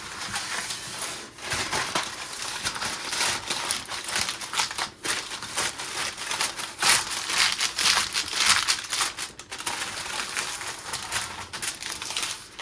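Aluminum foil crinkles and rustles continuously as it is pressed over a baked tortellini dish, a close, steady crackling texture with irregular louder crunches and no talking.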